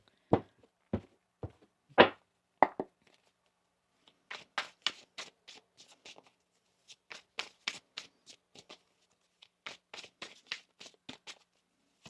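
Tarot cards shuffled in quick bursts of riffling and soft slaps, with short pauses between rounds, close and fairly quiet, no talking.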